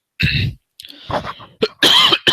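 A loud, close cough in a few harsh bursts, with brief gaps between them, heard on its own without talk.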